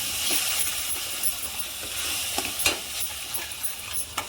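Blended tomato goes into a hot frying pan and is stirred, with a steady close sizzle and hiss broken by a few sharp spoon scrapes and clinks, no talking.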